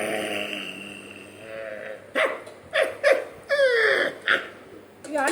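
A puppy lets out a few short, close whines and yelps in quick succession, rising and falling in pitch, after a quieter stretch.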